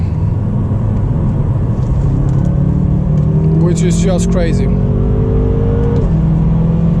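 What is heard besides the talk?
car accelerating with dual clutch gear shifts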